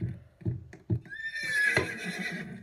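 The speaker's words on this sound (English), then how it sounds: "Let's get another carrot for Pony." A pony neighs in the Roblox game Piggy, a shrill, wavering whinny after a few clopping hoof-like thuds, close and clear against a quiet background.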